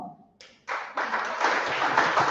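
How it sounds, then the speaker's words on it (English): An audience at a South-East voter campaign event breaks into applause as an official steps up to the podium, a dense, steady wash of many hands that swells in and keeps going without any talk over it. "Let's put our hands together as it comes to the podium."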